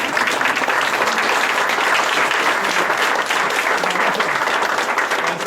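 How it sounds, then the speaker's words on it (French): Dense, steady applause from an audience at a town hall inauguration, a continuous wash of many hands clapping at full strength from start to finish with no voices standing out. "je souhaite que ce soit lui qui soit applaudi"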